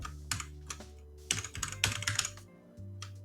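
Keys clack in quick irregular bursts on a computer keyboard while a username is entered into a Discord bot's setup form, close and fairly quiet, with brief pauses between flurries of strokes and no talk.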